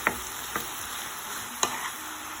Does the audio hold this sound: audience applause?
no